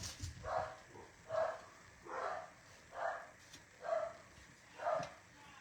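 Dogs barking indoors at a steady pace, about six evenly spaced barks sounding somewhat distant and faint.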